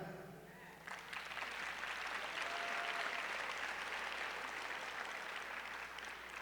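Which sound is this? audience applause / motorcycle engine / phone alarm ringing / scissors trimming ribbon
audience applause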